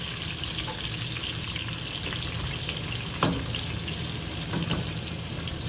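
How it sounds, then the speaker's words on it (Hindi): Cumin and onion cook softly in a pan, sending up a steady close sizzle and crackle with a few sharp utensil clinks against the metal and no speech. "अब इसमें 2 टीस्पून ज़ीरा ऐड कर दें और फिर इसमें प्याज ऐड कर दें। प्याज को सॉफ्ट होने तक कुक करें"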